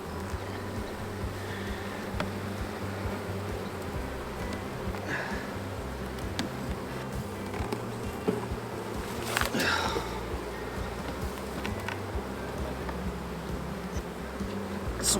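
Honey bees buzz continuously around open hive frames, a soft steady drone with occasional closer passes and faint handling sounds.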